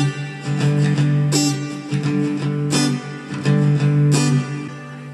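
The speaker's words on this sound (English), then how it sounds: "all we are doing is we are muting the second down stroke" Acoustic guitar strummed in a steady pattern for a Hindi song lesson, with the second down stroke muted by the fretting hand, giving clipped percussive chops between ringing chords; close and loud, no talking.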